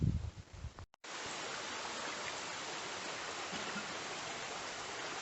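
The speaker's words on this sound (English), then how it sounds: "It's a lovely little stream." A small stream on the North York Moors near Goathland flows steadily in a close, even wash of water after a brief rustle and a moment of silence at the start.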